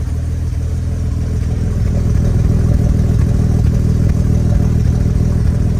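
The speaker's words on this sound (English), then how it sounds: "It sounds tame until you get it up to 120 miles an hour and make that Jaguar scream." A restored 1953 Jaguar XK120 fixed head coupe, with a rebuilt engine and transmission, runs with a steady, loud, close engine rumble and a light mechanical clatter, no voices over it.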